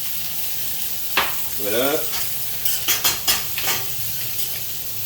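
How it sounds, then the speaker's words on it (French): Sweated onions hiss in a hot pan as white wine is added, with a steady sizzle, several distinct spatula scrapes and taps near the middle, and a brief spoken word. "Donc là je vais mouiller au vin blanc."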